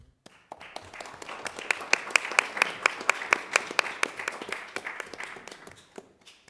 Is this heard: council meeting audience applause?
yes